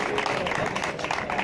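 Fellow cyclists and spectators clap for a rider at an awards ceremony after a Challenge Ciclista Salamanca stage, a steady crowd applause that fills the whole moment.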